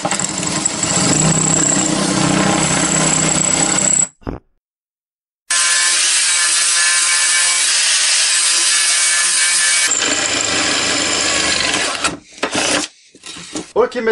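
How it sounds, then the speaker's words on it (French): A power drill fitted with a new 7 mm bit re-drills holes through welds on a car wheel arch repair, grinding loudly and continuously in close bursts separated by brief pauses. "Donc je vais essayer de repercer les trous que j'avais fait."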